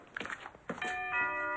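Doorbell at a home rings with a ding-dong chime that holds and rings out clearly after brief soft noises.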